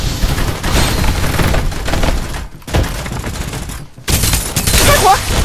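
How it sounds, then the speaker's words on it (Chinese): Heavy automatic gunfire in the video game Farlight 84, a team deathmatch, with loud sustained bursts that break off into brief pauses, then a dense crackling barrage. "开火， 尝尝炮台的威力。"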